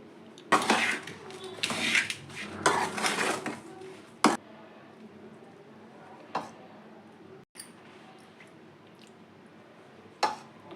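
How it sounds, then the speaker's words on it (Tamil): A ladle scrapes and stirs hot rava laddu mixture in a vessel, giving a few loud scraping strokes at first and then sparse, isolated clinks and taps with quiet gaps between. "அதுக்கு தான் நான் கரண்டிலே கிளறி விட்றேன்"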